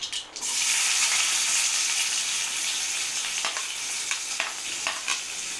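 Onions frying in oil with mustard seeds, a dense, steady sizzle close and loud throughout, with a few brief scraping clicks of a spoon toward the end and no speech.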